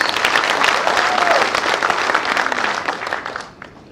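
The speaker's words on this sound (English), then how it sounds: "Let us appreciate CS Wamalwa with another loud applause" Loud, sustained audience applause at a conference at Ocean Beach Resort in Malindi. Dense clapping from a large crowd stays strong, then tapers off toward the end.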